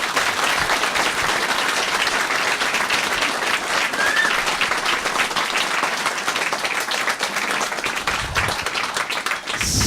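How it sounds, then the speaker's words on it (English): An audience at an evening talk with Mount Everest Sherpas breaks into steady applause, a sustained wash of clapping lasting about ten seconds. "he deserves a round of applause here for it"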